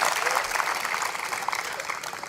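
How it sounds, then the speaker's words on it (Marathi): Listeners at a political gathering in Sangli clap to welcome Yogendra Yadav, a lively burst of crowd applause that gradually softens toward the end. "आपण टाळ्या वाजून त्यांचं सहर्ष स्वागत करूयात."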